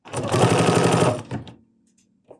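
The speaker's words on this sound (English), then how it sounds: "I'm going to stitch until it tells me, or it stops automatically." A Bernina sewing machine runs a decorative stitch in one loud, rapid burst of needle chatter lasting about a second, then stops, followed by near silence and a faint click.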